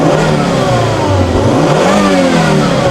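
A Volvo convertible's five-cylinder engine revs hard and close, a loud, dense snarl holding steady across a few seconds.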